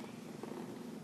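A house cat purrs close by in a steady, soft, continuous rumble for about a second.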